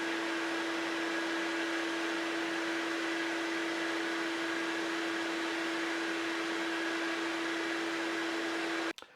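A vacuum runs through a 20-foot hose during an airflow test, a loud, steady whooshing roar with a constant whine that holds unchanged for about nine seconds, then cuts off abruptly with a clunk.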